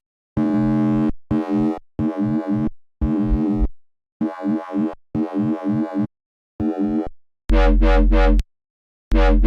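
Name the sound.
synth with high-pass distortion and sub oscillator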